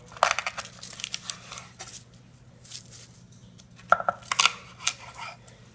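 A knife slices a sheet of dried seaweed in half for spam musubi, with crisp crackling and tearing sounds in several short bursts, some fainter and some sharper, close up over a low kitchen hum.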